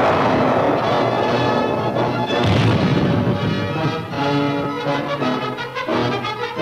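Depth charges exploding during a WWII destroyer attack on a submarine: loud, continuous booming and rumbling blasts with crashing impacts, dense and heavy throughout, under an old wartime soundtrack.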